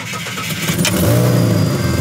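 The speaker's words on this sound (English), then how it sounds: "now we're going to see if it starts" A Ford AU Falcon engine with 234,000 km and almost no fuel cranks and catches, then settles into a steady, loud running idle with a rising mechanical whine and an exhaust leak.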